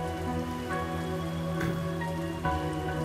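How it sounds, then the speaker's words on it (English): Steady rain falls in the video game Ys VIII, a continuous even hiss over a low musical drone, with no voices. "Usually rains whenever it happens."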